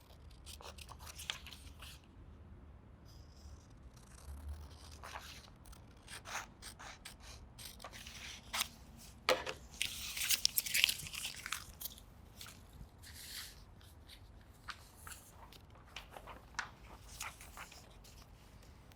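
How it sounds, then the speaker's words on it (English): Scissors cut out a paper undercollar pattern in a run of quiet, close snips and crisp crunchy paper rustles, clustered busier in the middle, no talking. "So we just need to cut this out."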